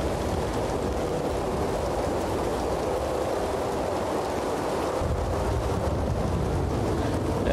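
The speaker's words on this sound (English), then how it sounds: "look at Pearson walking around in the rain" Heavy rain pours during a storm in the video game Red Dead Redemption 2, a dense, constant hiss mixed with gusting wind, loud and unbroken.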